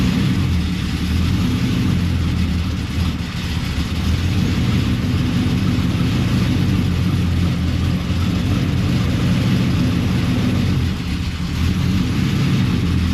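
A Pontiac Trans Am WS6, freshly back from the shop, sits in drive with its engine running, a steady, loud, close low rumble that holds evenly throughout with no voices.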